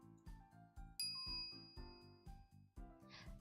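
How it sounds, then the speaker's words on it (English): A microwave oven chime in Steins;Gate sounds as a single bright ding, set among repeated rhythmic background music notes. "After 120 seconds pass, the microwave chimes."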